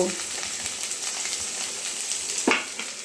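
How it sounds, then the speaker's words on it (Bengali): Vegetables frying in hot oil for millet noodles: a steady close crackling sizzle, with a louder stir or scrape near the end. "আর ভেজিটেবলসগুলো একটু ক্রাঞ্চি রেখে ভেজে নেব"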